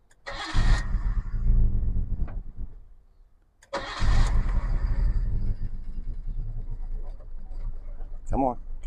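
A Nissan R33 Skyline engine cranks, catches and runs rough and uneven, cranks and restarts after a brief pause, then keeps idling loudly and unsteadily, with a short voice near the end.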